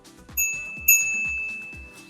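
The included bell on a Velotric Packer 1 cargo e-bike rings twice, two bright metallic dings with a long ringing decay, over low mechanical clicking.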